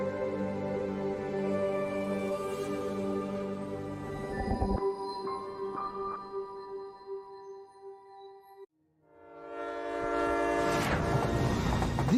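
Passenger hospital train crossing remote Kazakhstan, sounding a long sustained horn with layered tones, then a brief silence before a loud rush of rolling wheels and rumble as it passes close by.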